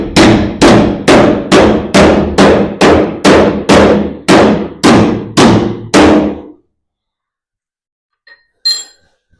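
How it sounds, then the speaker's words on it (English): About a dozen loud, evenly spaced hammer blows ring out on metal, sharp and clanging, then stop, followed by a few faint clinks. "I should be able to just hammer that down some"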